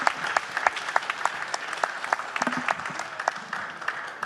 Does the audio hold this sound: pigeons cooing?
no